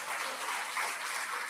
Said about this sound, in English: Let's all give them another round of applause